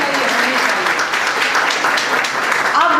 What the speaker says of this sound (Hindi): क्या एक बार जोरदार तालियां नहीं होगी?